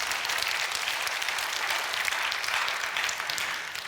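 A congregation in a Korean church sermon service breaks into dense, continuous applause that holds an even level for several seconds, many hands blending into a steady wash with no voices on top.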